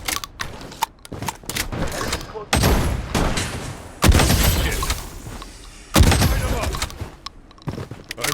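M1887 shotgun blasts in the video game Blood Strike, several loud booming shots with a few sharp cracks between them, spaced unevenly over continuous battle noise.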